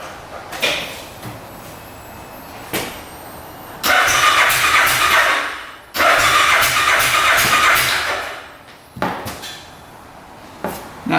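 A UTV engine cranks repeatedly during a cylinder pressure test with a plug in the first cylinder, in several loud, close bursts of whirring starter churn separated by pauses, without talk.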